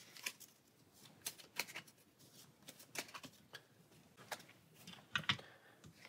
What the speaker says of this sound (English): So we'll shuffle Force Missile into our deck.